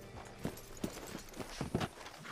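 A horse in Red Dead Redemption 2 walks with irregular hoof clip-clops over a low ambient bed, the steps moderately close and fairly quiet, with no speech.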